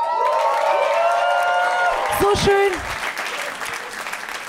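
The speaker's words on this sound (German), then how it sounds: "Dein Applaus." A comedy studio audience applauds at the end of a show, a dense burst of clapping that starts loud and slowly thins out. A presenter talks over it, and a short tone sounds in the middle.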